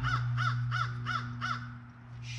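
A crow caws loudly five times in an even rhythm, each harsh call repeating at about half-second intervals against a steady low engine-like hum, with no talking.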